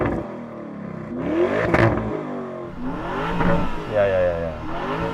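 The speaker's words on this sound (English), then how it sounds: "Go on, rev yours up." A second car's engine revs in a comparison run against an Audi SQ8, with a few rising and falling roars up close and voices talking over part of it.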